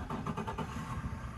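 Boat engines on a fishing boat at the Key Largo patch reefs fire up, giving a steady, close rumbling drone with slight revving pulses through the short stretch, and nobody talks.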